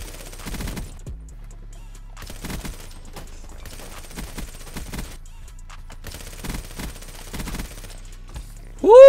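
PPSh submachine gun fire in the video game Black Ops 3, several rapid bursts of sharp shots separated by pauses at moderate loudness, ending in a sudden louder sound.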